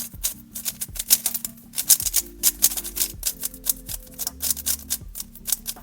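An X-Man Tornado V3 magnetic speed cube is turned rapidly, producing dense bursts of sharp plastic clicks and snaps in quick irregular clusters, close and alone.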